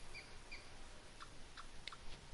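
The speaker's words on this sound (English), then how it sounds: "I'm really enjoying these bird sounds" Chirping birds in the Red Dead Redemption 2 game world, several short faint calls scattered over a steady background hiss, thin and distant with no talk.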